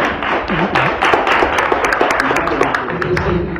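A church congregation claps hands together in a dense, continuous round of applause with irregular taps, mixed with voices and singing over the top.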